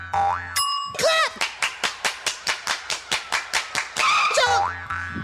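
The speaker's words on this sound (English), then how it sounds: "Clap." A run of quick, even claps from children in a grade 2 dance class, framed by springy boing-like tones before and after, with a voice near the end.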